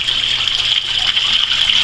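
Tap water gushes steadily into an Oxyclone 40 cloner unit being filled with 3.5 gallons, a constant close hissing pour with no pauses and no voices.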